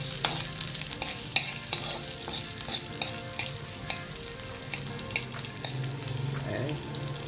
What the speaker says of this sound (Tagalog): Lalagay natin ito. Yung bawang.